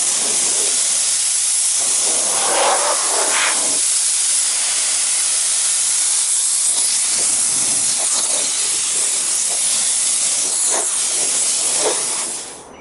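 A spray gun lays a coat of paint on the hood of a 1970 Pontiac LeMans wagon, giving a loud, continuous close hiss that runs nearly unbroken for about twelve seconds before cutting off.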